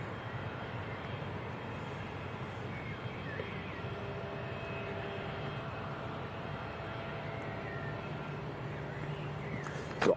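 Learjet 40 business jet at Manchester Airport, a faint steady jet whine and rumble held at a distance for the whole stretch, with a brief louder bump at the very end.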